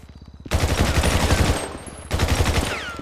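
Rapid automatic gunfire aimed at gasoline in the video game GTA V, a loud, dense string of shots in two bursts separated by a short gap, close and harsh, with no talking.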